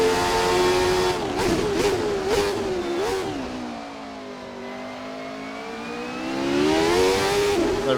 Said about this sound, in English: Oh, the car's getting a bit loose, a bit sideways.